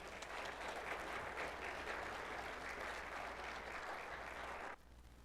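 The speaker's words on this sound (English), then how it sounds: "So let's give them a round of applause." An audience at a Sunday evening veterans' service in a church applauds with sustained, fairly distant clapping that holds steady for several seconds and then stops abruptly near the end.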